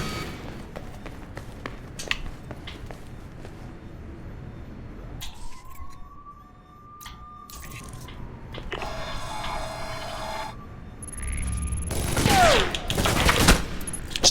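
Enemy gunfire in the video game Alpha Protocol: scattered shots and rapid bursts crackle through the scene, with a rising electronic tone in the middle and a dense, loud volley toward the end.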